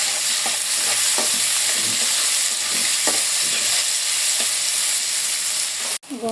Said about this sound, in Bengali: পেঁয়াজ দিয়ে একটু লাল লাল করে ভাজে নেব।